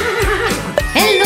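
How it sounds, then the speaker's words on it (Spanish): Toy Percheron horse gives a bright, rising-and-falling whinny, short and close, repeated in two bursts. "El caballo hace ¡yii!"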